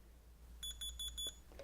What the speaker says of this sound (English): It beeps, which means the key lock feature is now off.